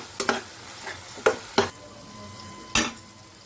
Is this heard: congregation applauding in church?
no